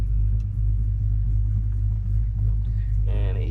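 A 1972 Chevy C10 restomod pickup with an LS swap idles through a stainless steel dual exhaust, a steady, deep rumble held close and even throughout, with a brief higher mechanical sound near the end.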